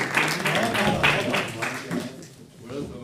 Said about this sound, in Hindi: भरपूर तालियों में आपकी।